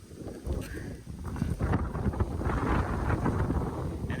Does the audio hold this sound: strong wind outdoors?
yes